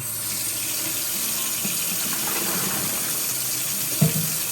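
Hot water running steadily from a kitchen tap into a sink, a constant close splashing rush with a brief clunk near the end.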